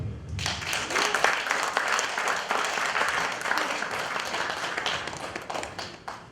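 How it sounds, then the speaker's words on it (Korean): An audience at a Korean anti-corruption education and appointment ceremony breaks into a big, sustained round of applause, dense hand clapping that swells quickly and holds steady for several seconds before tapering. "큰 박수로 부탁드립니다"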